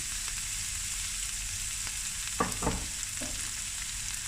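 Cold cooked basmati rice stirred into a pan of burnt butter, a steady close sizzle of frying with a couple of brief spoon scrapes through the rice, no voices.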